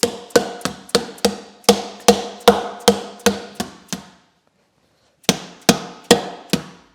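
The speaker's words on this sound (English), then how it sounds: "once you have the hammer and you give it some good taps" Rubber-faced hammer taps fit an AlloyGator edge protector onto a Tesla factory alloy wheel: a steady run of about a dozen sharp, close knocks, then a pause and four more taps.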